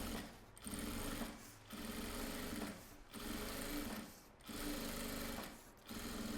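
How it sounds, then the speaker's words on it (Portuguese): A sewing machine with a teflon presser foot and a size 16 or 18 needle runs a seam through coated fabric on a cosmetic bag, in five steady whirring bursts separated by brief pauses, close and loud, with no talk. "Já passa a costura com um pezinho de máquina desse lado também"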